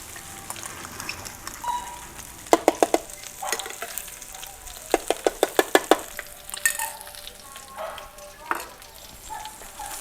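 Aromatics sizzle and crackle in a little oil in a thin wok, the base for a Thai basil stir-fry with A5 Wagyu beef and bamboo shoots. Steady frying hiss is broken by bursts of rapid spatula scraping and clanks against the pan.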